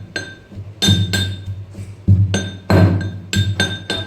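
A mortar and pestle pounds chilli and spices with oil, giving loud, sharp, irregular thuds and clinks close by, with short pauses between strikes.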